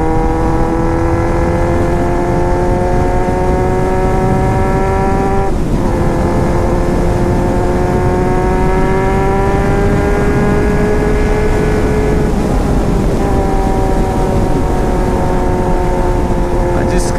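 A Kawasaki Z750 four-cylinder motorcycle engine and stock exhaust roar steadily and loudly up close, revving through rising tones with brief drops at gear changes around 5.5 and 12.5 seconds.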